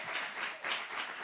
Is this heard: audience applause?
yes